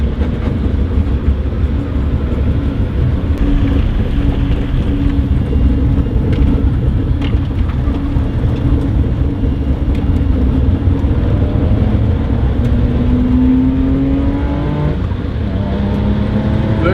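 Kei car drift build running on PVC pipe tires, a loud continuous engine drone and rumble with rising and falling revs as it slides across the ground, close and steady throughout with no talking.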